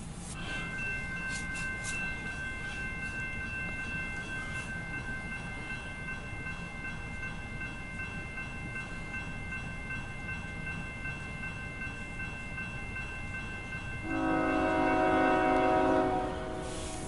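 A CSX intermodal freight train passes with its horn sounding, a steady chorded blast held over the rumble of rolling cars, swelling louder near the end as it comes close.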